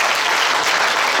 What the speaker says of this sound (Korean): 탄자니아 대사님 초청 강연 다시 한번 큰 박수로